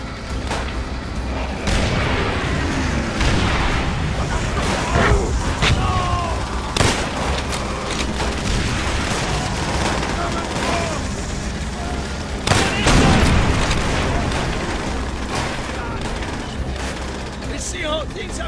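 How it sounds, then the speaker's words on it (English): Continuous battlefield gunfire in Call of Duty: World at War, with rifle shots, bursts and booms cracking densely over a constant roar, close and loud throughout. "I need to shoot them in the back!"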